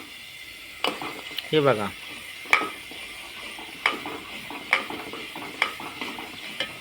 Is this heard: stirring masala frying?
yes